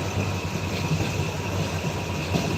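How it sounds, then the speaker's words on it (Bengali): Jamalpur commuter mail train at Cantonment station, a steady low rumble and hum of the train under constant station background noise. "এটা একটা male male train Jamalpur commutator mail"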